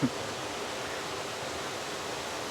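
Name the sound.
waterfall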